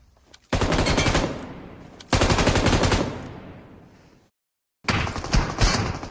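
Bursts of automatic gunfire from the BGMI battle royale game, loud rapid-fire volleys in three strings separated by a brief silence, with no talk over them.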